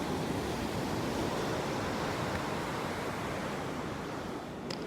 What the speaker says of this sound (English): So I'll show you a bit here as the sea hits the rocks.